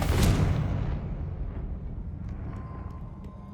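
Confringo fire spell from Hogwarts Legacy exploding, a loud booming burst at the start that rumbles and slowly fades over a few seconds, with faint small clicks near the end.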